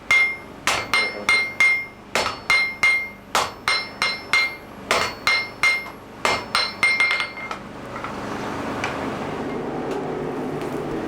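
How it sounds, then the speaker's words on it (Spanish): Rhythmic ringing hammer blows on hot iron as a blacksmith hand-forges a farm spade, striking in quick bursts, bright and close, then giving way to a steady roaring hiss like a forge fire. "A golpe de martillo, el herrero va trabajando las dos partes de la pieza a la vez"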